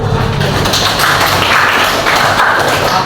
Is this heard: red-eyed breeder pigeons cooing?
no